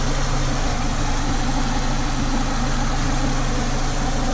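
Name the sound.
car engine idling with AC off in park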